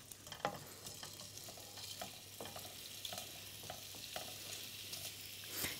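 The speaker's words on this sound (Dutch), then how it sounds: "De ballen gaan in de olie." Meatballs sizzling as they fry in oil in a pan, a steady soft crackle with occasional louder pops and stirring clicks, fairly quiet and close.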